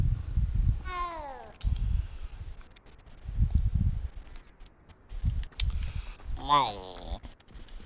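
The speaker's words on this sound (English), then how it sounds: "You're an orange cat." An orange cat in the video game Hogwarts Legacy meows twice, clear rising-and-falling cries near the start and end, between soft low thumps and shuffling sounds.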